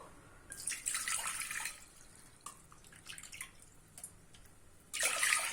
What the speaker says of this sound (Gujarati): એક કુકરમાં 2 કપ જેટલું પાણી એડ કરીશું